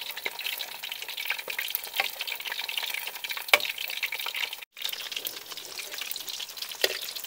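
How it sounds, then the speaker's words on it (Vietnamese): A large tilapia fries in hot oil in a tilted pan while hot oil is spooned over its skin, giving a steady close crackling sizzle with light scraping clicks and one brief dropout, no voices. "Dầu ra còn nóng á, cái múc dầu lên cho cái phần da"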